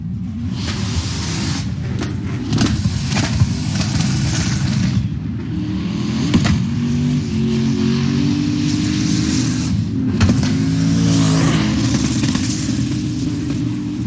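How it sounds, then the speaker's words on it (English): BMW drift car at a Formula Drift competition in Atlanta, its engine rumbling and revving loudly with repeated sharp pops and bangs over about fourteen seconds, heard alone with no talk. "this is a great car to lay out and listen to the Mr. Cool Cash Racing BMW. Listen to this thing, pop and bang."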